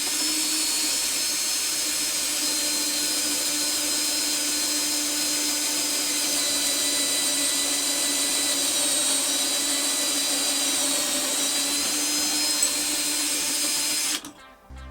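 A drill whines steadily at close range for about fourteen seconds, boring angled pocket holes through a wooden upright clamped in a pocket hole jig, the high-pitched motor tone holding constant before cutting off.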